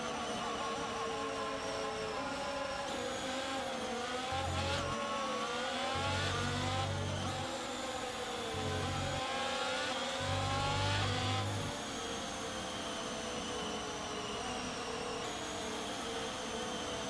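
F1 race cars idling and blipping their engines on the starting grid in the F1 22 racing game, a continuous layered engine drone with rising and falling revs, no talk.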